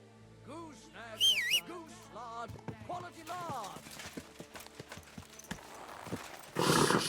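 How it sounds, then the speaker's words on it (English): In Kingdom Come: Deliverance II, a horse's hooves clip-clop in an irregular run of close knocks, with whinny-like and whistling calls early and a burst of noise at the end. "Easy, good horse."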